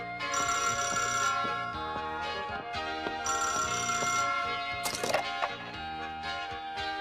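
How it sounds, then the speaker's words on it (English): A telephone bell rings loudly in repeated bursts, its bright metallic trill pausing briefly between rings, with some clattering movement underneath and no talking. "can't get anything done with the phone ringing all the time"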